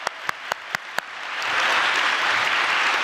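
A few single sharp claps ring out, then a full congregation applause swells and holds at a worship service for Youth Sunday.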